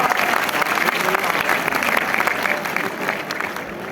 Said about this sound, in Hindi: एक बार जोरदार तालियां हेमंत के लिए बजा दीजिए।